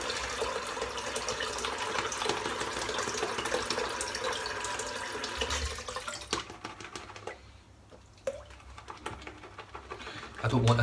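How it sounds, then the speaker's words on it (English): Water trickling and splashing into a shaving lather bowl, a running flow that fades into soft drips and small clinks, with someone talking nearby. "I might even just put a bit of water into the bowl again."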